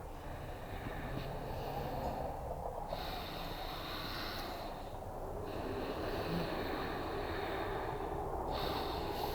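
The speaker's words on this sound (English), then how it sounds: "Nice deep breath into the heart" Deep, noisy breaths drawn in and let out during a functional cardio yoga session, in a slow rhythm of long airy swells that fill the space, close and steady with no talking.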